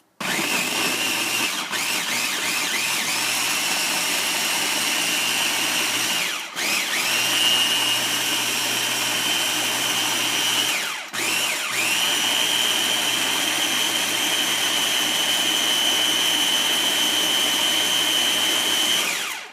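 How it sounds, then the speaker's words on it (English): A loud blender whirs continuously at high speed, its motor pitch shifting slightly, with two brief pauses before it starts up again. "It is by far the best blender I have ever played with."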